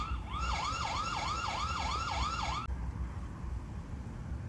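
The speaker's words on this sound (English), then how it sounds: "so it offers sirens as well too" Rapid wailing siren from a solar-powered security camera, about eight quick rising-and-falling sweeps over roughly two seconds, fairly loud and close, then cutting off abruptly into quiet outdoor background noise.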